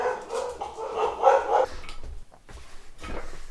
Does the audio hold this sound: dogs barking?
yes